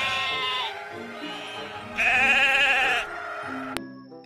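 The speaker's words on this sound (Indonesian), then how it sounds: "Ini ada domba." A sheep bleats loudly and close, a few wavering calls in quick succession from a cleaned farm-animal scene, with no talk over it.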